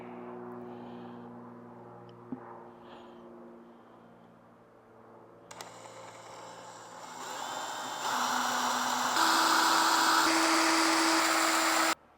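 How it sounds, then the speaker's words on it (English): A power drill whirs up, its motor pitch rising and getting louder over several seconds, with a steady buzzing hum before it and no talking. "proceed to drill the 10 holes that you need"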